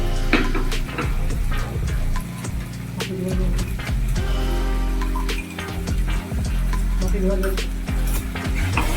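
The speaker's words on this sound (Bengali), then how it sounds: "এবারে মশলাটাকে কিছুক্ষণ কষিয়ে নিতে হবে" Ground spice paste frying in a pan while being stirred, a close sizzle under frequent scraping and clinking of a spoon against metal, with no voices.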